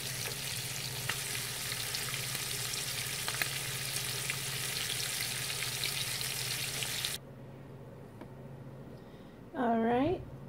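Flour-dusted shrimp cakes frying in oil, a dense steady crackle that cuts off abruptly near the end, followed by a brief voice-like sound.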